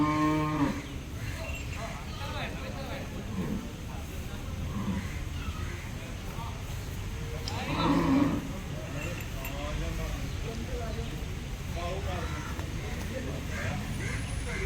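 Cattle at a Chattiparamba livestock market the day before trading, including young calves, lowing intermittently amid a steady crowd murmur, with a louder call near the eight-second mark.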